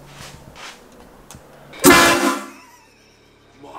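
Train horns installed in a limo let out one sudden, very loud blast that lasts about half a second and then trails off, with quiet murmuring before it.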